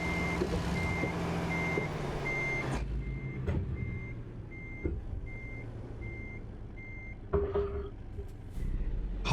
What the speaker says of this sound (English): I wonder if I can reverse back out